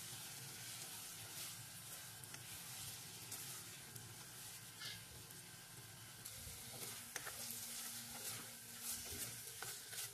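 Marinated beef sizzles in a pan after garlic and onion as it is stirred, a constant frying hiss broken by scraping clicks from the utensil, moderately close.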